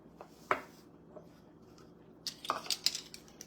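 Taco ingredients being mixed in a bowl in a home kitchen: sparse, faint clinks and taps of a utensil against the bowl, with a single knock early on and a quick run of clinks toward the end, set against quiet room tone.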